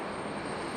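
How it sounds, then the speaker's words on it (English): A Lufthansa airliner on final approach to Raleigh-Durham International Airport gives a steady, broad engine roar, distant and unbroken, with no voices over it. "Lufthansa on final."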